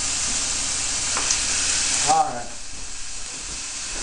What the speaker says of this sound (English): you can hear that sizzle that's characteristic of frying something in oil